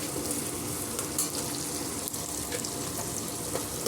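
Onion and cashews fry steadily in hot oil until golden, a dense, close sizzle that crackles evenly throughout with no one speaking.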